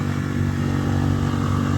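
A Tohatsu 6HP outboard engine runs steadily on a Boatworld 300 inflatable fishing boat, giving a loud, close, continuous drone with no voices over it.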